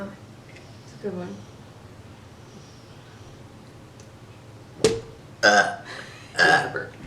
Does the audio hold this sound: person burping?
yes